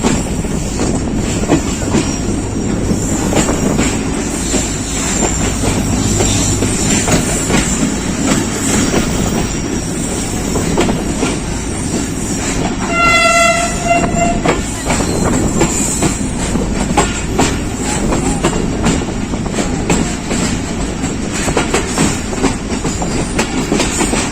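A passenger train runs loudly with steady rumbling and clickety-clack from onboard, and a short horn blast sounds about halfway through.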